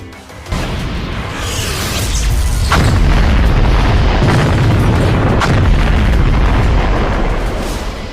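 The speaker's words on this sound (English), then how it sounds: "This is how Themor explodes the planet Sadala in an instant." A planet blows apart in an anime cartoon, a loud booming explosion that swells into a long, dense roar of rumbling debris and crackling bursts, sustained for several seconds.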